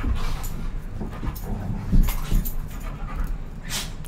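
Close, steady panting from a new puppy named Lucy, with a few faint whimpers and small clinks mixed in, quiet and continuous indoors.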